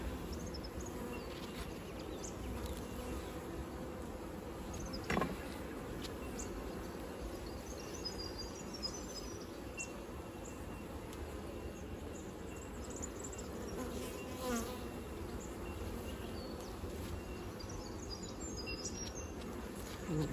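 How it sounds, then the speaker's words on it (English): Honey bees swarm busily around a backyard beehive during a hive inspection, a dense, steady buzz from many insects close by, with a few brief louder passes near the listener. "Go away, bees."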